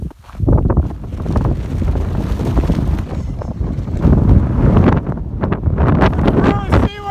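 Strong gusty wind buffets the microphone on the Pacific Crest Trail beside a wind farm, loud and rumbling throughout while people speak over it.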